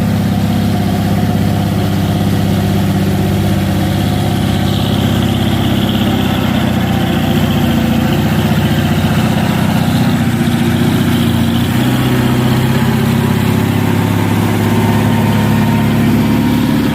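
A brown Fuso truck's engine drones steadily while it labours up a steep, busy climb with smoke coming off it. The sound is a loud, continuous low rumble that stays dense and even throughout, with no talking.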